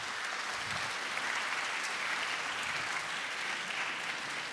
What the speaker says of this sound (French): Merci sous les applaudissements